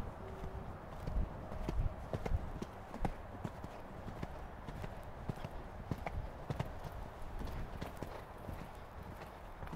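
Hooves clip-clop steadily on the ground as a horse walks at an even pace, close by and moderately quiet, with no voices.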